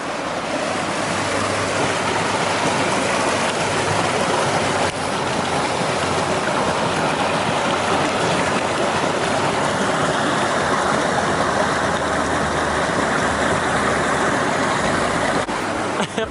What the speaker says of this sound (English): Look at the mini waterfall.